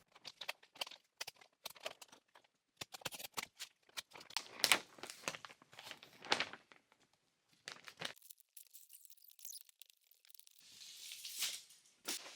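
A utility knife slices through a SIGA Majrex vapour control membrane around an electrical box, giving a run of quiet, irregular tearing and crinkling scrapes with short pauses, close and faint.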